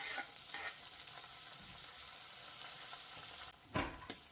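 Chopped onions, crushed garlic and cut tomatoes frying in hot oil for a ridge gourd curry, a steady close sizzle with a few sharper bursts as the pan is stirred near the end.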